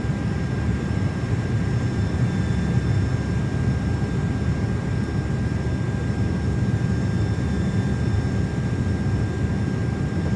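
Steady, loud engine roar of an Airbus A330-300 jet on its takeoff run in Microsoft Flight Simulator 2024, an even broadband rumble with faint high whine that holds constant throughout, with no voices.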